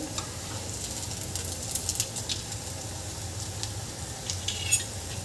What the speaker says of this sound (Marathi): अशा प्रकारे असं खरपूस छान भाजून घ्यायचे आहे.